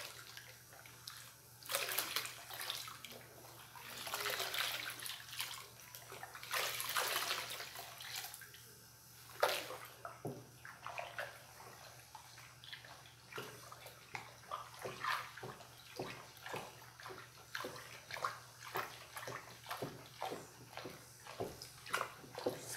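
Liquid soap made with Cif is stirred in a large batch, giving faint, steady sloshing and swishing water sounds with repeated short splashes and knocks, mostly without talk.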